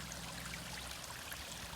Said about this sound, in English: this is our creek, but it should be draining to the left, and instead it is going right down here.